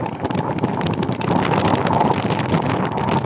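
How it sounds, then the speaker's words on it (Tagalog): Strong wind buffets the microphone of a motorcycle riding through rain on the Infanta and Real loop, a steady gusting roar with no talk. "mas malakas ang hangin dito kasi sa ulan guys eh"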